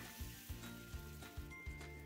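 A thick millet and fenugreek flatbread frying on an oiled griddle over a medium flame gives a steady, close hiss and sizzle, with soft regular low thumps under it.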